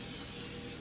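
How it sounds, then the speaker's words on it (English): Cooking spray released from a can into a hot pan before cooking turkey patties: one continuous, fairly soft hiss lasting under a second, alone and close. "So we're gonna go ahead and spray it in the pan."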